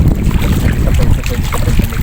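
A small boat travels across the open sea, its engine and rushing water buried under loud, constant wind buffeting the microphone.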